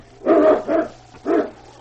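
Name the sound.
husky sled dog barking on a snowy trail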